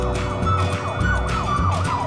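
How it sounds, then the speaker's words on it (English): An ambulance siren in a children's car cartoon wails with rapid rising and falling sweeps over a steady engine rumble, loud and close, with no voices. "Oh, the ambulance rushed. It is allowed. Emergency lights are turned on. Do you hear a signal?"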